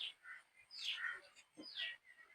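A few faint, warbling chirps and whistles from a pet parrot, rising and falling in short bursts at a moderate distance, with quiet pauses between.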